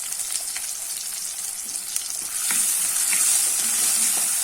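Sliced shallots and garlic cloves dropped into hot oil for a village-style brinjal kadayal, a bright hissing sizzle that grows louder midway and continues steadily with faint stirring clicks, close and alone.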